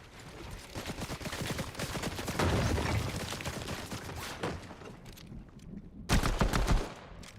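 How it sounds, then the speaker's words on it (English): A heavy shotgun firing in Fortnite, with repeated loud blasts in quick bursts amid dense gunfire, the strongest shot landing near the end. "let's use the real shotgun"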